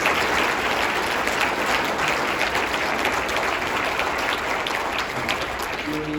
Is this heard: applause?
yes